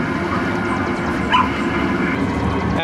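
A dog barks at the dog park display in Legoland New York's Miniland. The faint yips sit under a steady wash of crowd and park noise, with one slightly louder burst midway.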